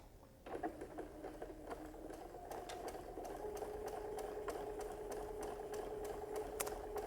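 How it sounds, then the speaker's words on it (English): A sewing machine starts up and stitches through a quilt at a steady fast rhythm, a close mechanical whir and patter that continues without pause. "Okay, so let's go ahead and we're going to sew."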